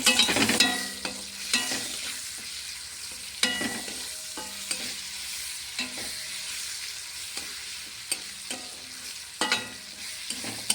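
Banana flower being stirred and fried in hot oil with tomato, a steady sizzle punctuated by repeated scraping stirs of a spatula in the pan, fairly close with no talking.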